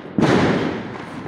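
Diwali firecrackers go off as one loud thudding burst that rings out into a dense crackling rumble and slowly fades, with no talk over it.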